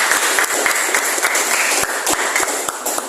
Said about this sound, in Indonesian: ya kita beri aplaus dulu untuk